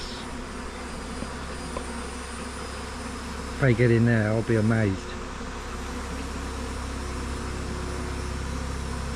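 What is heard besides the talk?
swarm of bees buzzing around a nucleus hive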